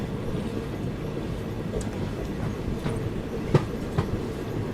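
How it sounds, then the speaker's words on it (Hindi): A train on the main line rumbles past, heard from aboard another train crossing a river, a steady low rolling rumble with a few sharp clacks near the end. "ये मेन लाइन पे किसी ट्रेन का डिपार्चर हुआ"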